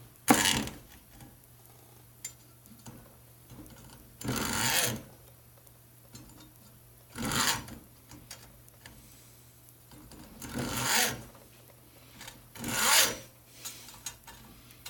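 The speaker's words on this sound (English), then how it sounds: "I'm going to try my damnedest to use the hacksaw, even though I despise hacksaws." Hacksaw fitted with a brand new blade cutting through material in a pen-making workshop, heard as about five separate raspy strokes, each a second or so long with pauses between, close up and clear with no talking.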